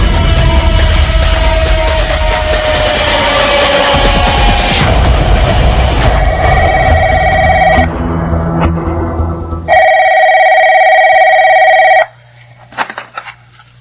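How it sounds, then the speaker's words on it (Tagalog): A telephone bell rings loudly in sustained bursts, first over a thick layer of dramatic noise and then more cleanly in two long trills before the sound cuts out. "Bakit ang tagal mong sagutin ang telepono?"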